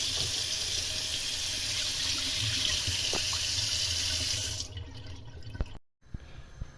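Running water pours steadily into a sink for several seconds, splashing over rice being rinsed until the water runs clear, then stops, leaving a few faint clinks.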